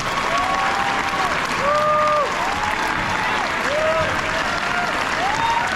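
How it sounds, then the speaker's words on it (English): A school awards ceremony audience gives a sustained final round of applause for eighth-grade awardees, dense steady clapping filling the room with faint cheers and whoops rising above it. "give a final round of applause for all of our awardees this morning"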